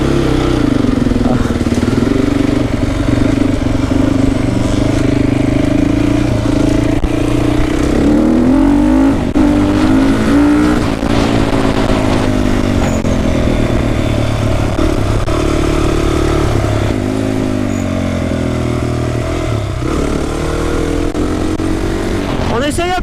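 A team BBR Honda CRF 450 prepared for supermoto revs loudly and continuously, close by, its engine note rising and falling across the run, while people talk over it.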